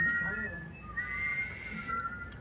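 A whistled tone holds steady, then shifts upward in short steps, thin and a little wavering, over a low murmur of room noise during a group warm-up lesson.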